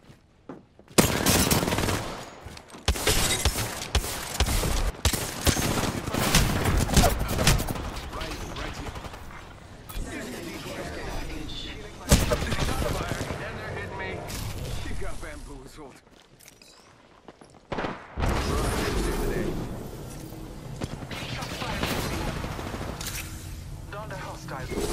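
Gunfire in an Apex Legends Arenas match comes in loud, rapid automatic bursts with short pauses and a few quieter gaps, while a voice occasionally speaks beneath the shooting.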